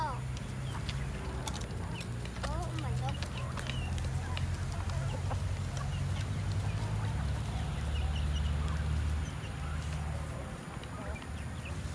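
Chickens cluck steadily at feeding time, a busy close flock with scattered calls over constant low background noise, while people talk nearby.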